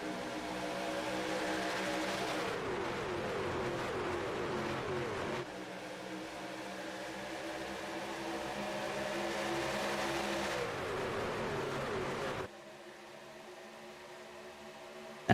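Pulling trucks race at Daytona in the iRacing sim, a pack of engines droning steadily at high revs with shifting pitch as cars pass, loud and continuous, with a sudden drop in level near the end.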